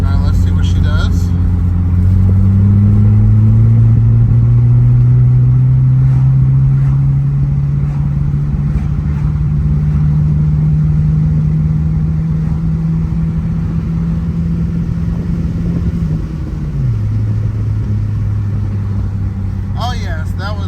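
Engine of a Starquest with a clogged rear fuel screen, revving loud and close in second gear after a downshift, a steady droning pitch rising slowly then dropping near the end, with a faint voice underneath.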